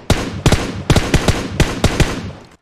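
Gunfire in the PUBG Mobile game, fired near a church: about ten loud, sharp shots in quick uneven bursts, each cracking hard and decaying fast, with no voices over them.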